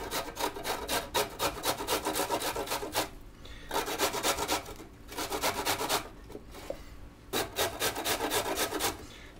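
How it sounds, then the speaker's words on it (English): Food scraped back and forth across the fine side of a hand grater in quick rhythmic bursts of rasping strokes, close and fairly loud, with short pauses between runs. "Then we're just going to take a grater, kind of the fine grate on here."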